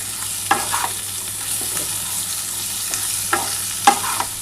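Spices sizzle in a pan with potato and cauliflower for a vegetarian Bengali curry, a constant close frying hiss broken by a few sharp spatula scrapes and stirs.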